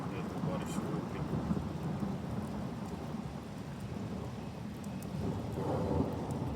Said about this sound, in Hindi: बहुत ज़्यादा बादलों की गरज है, तो अच्छी खासी बारिश हो रही है।